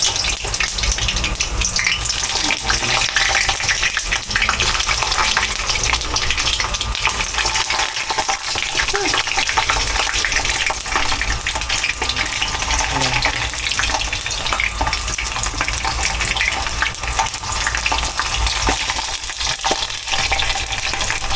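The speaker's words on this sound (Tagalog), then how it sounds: "Mainit na yung ating mantika guys. Salang na natin ito ating talong." Eggplant fries in hot oil, a dense, loud, continuous sizzle and crackle that stays steady throughout with no clear talk.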